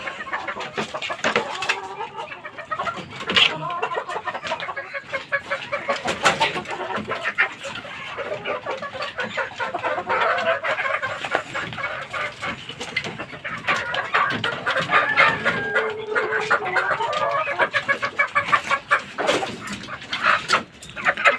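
Gamecock and its hens on a Filipino backyard farm, with busy clucking and bird calls layered with other farm noise, moderately loud and continuous throughout, and no speech.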